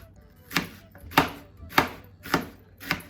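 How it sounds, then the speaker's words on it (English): A knife chops onions on a cutting board for a seafood boil, landing five distinct, evenly spaced thuds about half a second apart, close and clear with no talking. "So I'm just gonna cut my onions not pretty fine"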